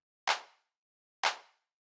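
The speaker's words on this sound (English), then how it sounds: "After that, we have the clap, which sounds like this." Two crisp, bright drum-machine clap samples about a second apart, each with a quick attack and a short, warm decay, set against silence, in a classic house music style.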